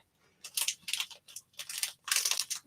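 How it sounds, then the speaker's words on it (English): A treat wrapper being torn and opened nearby, a run of crisp crinkling rustles in several bursts with short pauses between them, no talking. "That is the sound of another treat opening."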